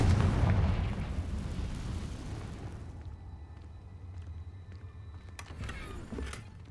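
A fiery Confringo spell blast in the Hogwarts Legacy video game bursts out as a loud, close boom that fades into a low rumble, with faint chiming tones later.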